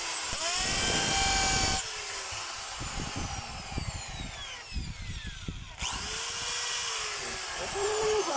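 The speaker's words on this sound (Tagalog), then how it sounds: "Ngayon, testing natin yung hammer." A DeWalt DWD024 half-inch drill runs in hammer mode, giving a loud continuous whine with rough pulsing impacts that dips in the middle and then revs back up.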